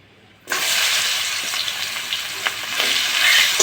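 Chopped onion dropped into hot oil with dried red chilli and bay leaf, a sudden loud burst of sizzling that continues steadily, with a few stirring clicks.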